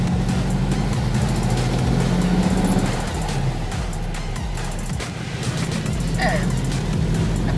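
A 1984 Volkswagen Fusca 1600 drives along with a steady, fairly loud rear-engine drone and road rumble, heard from inside the car with some shifting in tone partway through.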